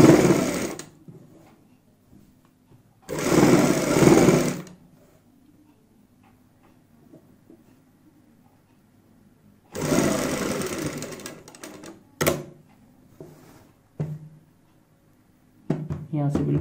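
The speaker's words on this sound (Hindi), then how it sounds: "यहाँ पे ऊपर से सबसे पहले सिलाई लगा लेते हैं ऊपर की साइड से" A sewing machine stitches along a garment neckline in two short, buzzing runs of rapid needle strokes. A voice talks in between, over a faint ticking background.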